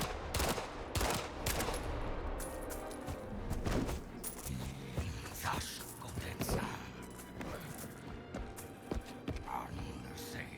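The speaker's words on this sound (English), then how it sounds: "I'm going to try and shoot him again." Gunfire in the Indiana Jones and the Great Circle video game, repeated loud shots and bursts spread across the whole stretch over a busy game background, with a voice talking at times.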